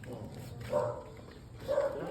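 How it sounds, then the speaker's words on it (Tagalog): A dog gives two short barks about a second apart, close by, as people talk in a home. "Yung aso baka mangagat."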